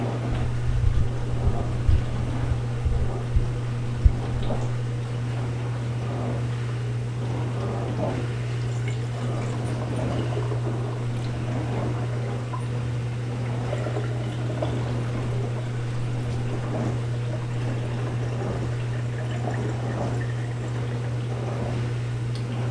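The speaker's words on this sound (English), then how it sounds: "So I got my bottle, and I'm just going to pour it in." Liquid poured steadily into a bottle at home, a continuous soft trickle heard up close for the full stretch, with a steady low hum underneath and a few faint clinks near the start.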